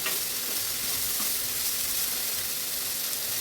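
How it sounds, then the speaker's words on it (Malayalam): Egg hits a hot pan of cauliflower and sizzles in a steady, close frying hiss that stays even and loud throughout, with no voices. "ഇനി നമുക്ക് ഇതിലേക്ക് മുട്ട ഒഴിച്ചു കൊടുക്കാം."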